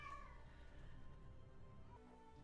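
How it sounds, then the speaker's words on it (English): A pet cat being petted gives one quiet meow near the start, a short call that falls in pitch, then only faint room sound with no talking. "I'm gonna pet my cat."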